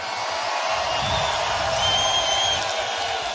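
A large rally crowd cheers inside an aircraft hangar, a continuous roar of mixed voices and whoops at steady, fairly loud level, reverberant and broad with no single voice standing out.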